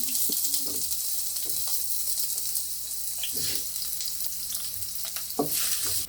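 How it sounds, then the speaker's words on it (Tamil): Chopped onions hit hot oil in a kadai while Maggi noodles are being made. A steady, close sizzle hisses throughout, broken by scraping and stirring knocks from a spatula, with no talking. "கட் பண்ணி வச்சுருக்க வெங்காயத்தை ஆட் பண்ணிடுவோம்."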